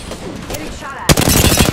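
Automatic weapon fire erupts suddenly in the battle royale game Apex Legends, a loud close rapid burst of shots cutting in after a quieter stretch of game ambience.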